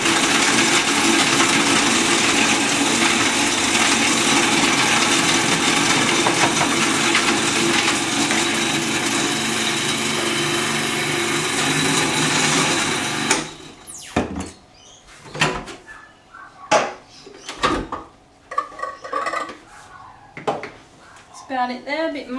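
A food processor loudly whirs and grinds raw cake ingredients for about thirteen seconds, then stops abruptly, followed by clattering and knocking as the bowl and lid are handled nearby.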